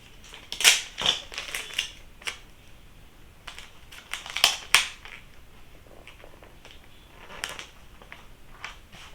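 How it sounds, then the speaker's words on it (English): Tape being pulled and pressed onto a shipping package, a few sharp crackling rips and taps in short bursts with quiet gaps between them, close by and alone. "I'm just gonna put a little tape on here"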